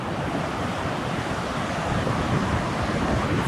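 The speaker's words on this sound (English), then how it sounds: "Nice waves out there." Ocean surf washing steadily onto a beach at a wild camping spot, a continuous broadband roar of breaking waves with some wind rumble, fairly loud and with no voices.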